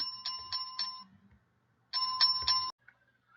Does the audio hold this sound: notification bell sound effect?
yes